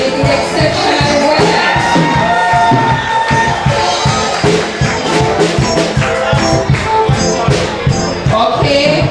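An audience at the Mineral Heights Christian Preparatory School 2023 graduation keeps up a dense wall of cheering and shouting for the graduates, steady and loud throughout, with a constant beat of applause underneath.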